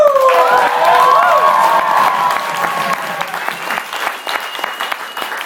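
Loud crowd applause with cheering and whistles at a poetry slam, dense clapping that gradually thins toward the end.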